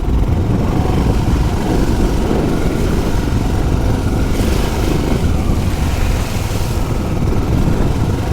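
A Royal Enfield Himalayan motorcycle is ridden over loose, wet terrain, giving a steady engine drone mixed with heavy wind rush that continues throughout without speech.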